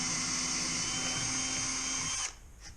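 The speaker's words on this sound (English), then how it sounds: "Drill the next size up." A close electric drill whines steadily at high speed for a couple of seconds while drilling a pilot hole for a kayak fish finder transducer mount, then stops abruptly and spins down with a brief faint whir.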